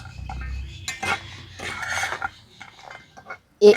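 A utensil scrapes and stirs sugar syrup in a frying pan in short rasping strokes, with a few brief knocks and a sharp clink at the end.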